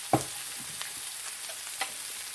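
Sliced onions hit hot oil for a Spanish tortilla, a steady close sizzle with a sharp clink at the start and a few faint utensil taps.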